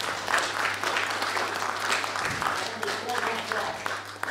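Audience at a book presentation for "Alice au pays de Lucifer" applauds a couple of guests with steady, continuous clapping over a low hum, and some voices murmur underneath.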